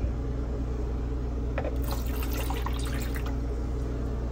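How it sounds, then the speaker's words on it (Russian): In a hotel room, water is poured into the filling opening of an appliance: a close, trickling splash that begins partway through and runs for a couple of seconds over a steady room hum. "Я так понимаю, что воду надо наливать. Вот в это отверстие"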